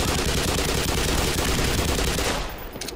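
Dense, continuous automatic gunfire from the video game Black Mesa: Xen, loud and rapid, fading a little at the very end. No voices.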